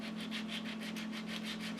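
Steady rhythmic rubbing of 600 grit wet or dry paper wrapped on a block, held flat while sanding a throttle plate, with even back-and-forth strokes at close range and no talking.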